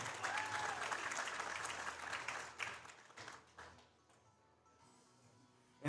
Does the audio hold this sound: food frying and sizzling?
no